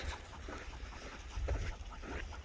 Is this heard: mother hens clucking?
no